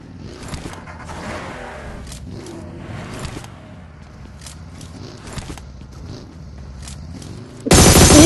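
In an Ultimate Royale battle royale game, a vehicle rumbles closer amid scattered gunfire bursts, ending in a sudden loud roaring blast as it arrives.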